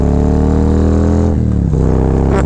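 A Harley Road Glide fitted with a Feuling 465 cam rumbles loud and close, its deep engine note holding steady before dipping and rising again as the throttle is blipped.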